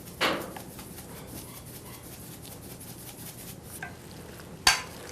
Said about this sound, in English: I'm going to add some more of the milk that I had